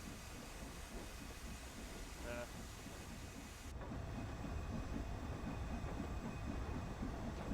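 A steam train setting off in Train Sim World 3, a steady low rumble and hiss of the locomotive building as it pulls away, with a voice talking over it.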